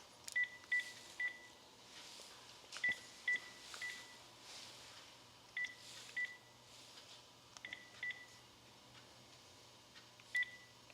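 A telephone dials a number: faint, quiet touch-tone beeps in short irregular clusters, some single and some in quick pairs, over low background hum, with no talk.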